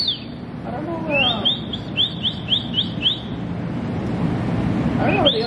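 Birds at the Bronx Zoo give quick repeated high chirps in short bursts, loud and close over steady outdoor ambience, with another burst of calls near the end.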